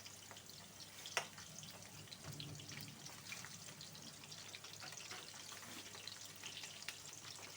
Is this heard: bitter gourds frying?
yes